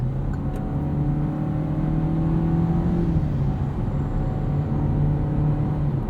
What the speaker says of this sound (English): The engine is loud, but it doesn't have an annoying tone to it.